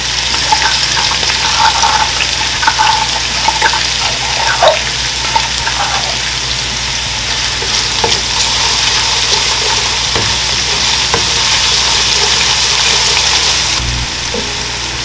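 Garlic and spices fry in a pan for Haitian rice with djon djon mushrooms, a steady sizzling hiss that runs throughout with small pops and faint clinks of stirring, close and alone with no talk.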